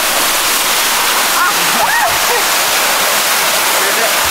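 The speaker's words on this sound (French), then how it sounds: "on voit la cascade là." A steady, roaring rush of a waterfall in Mauritius, loud and close, with faint voices barely audible beneath the constant hiss.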